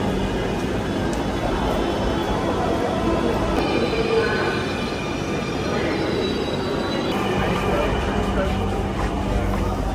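Dhaka metro train on the Motijheel line, a loud continuous rumble of wheels and carriage with faint squealing tones, steady throughout, with crowd noise in the background.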